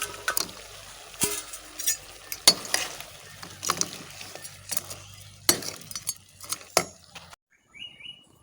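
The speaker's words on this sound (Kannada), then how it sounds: "ಇವಾಗ ನಾವು ಫ್ರೈ ಮಾಡಿಟ್ಟಂಥ ಹಲಸಿನಕಾಯಿ ಹೋಳುಗಳನ್ನು ಅದಕ್ಕೆ ಸೇರಿಸಿಕೊಳ್ಳುವ." Fried jackfruit pieces tipped into a chilli gravy and stirred in a pan, with scattered sharp clinks and scrapes of a metal spoon against the pan, irregular and close, over a quiet background with no talking.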